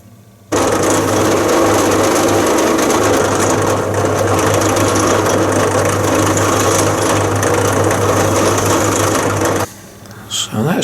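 A buffing mop on a bench polisher, used for the second polishing stage on a Scandi-ground bushcraft knife blade, whines steadily and loudly for about nine seconds before spinning down.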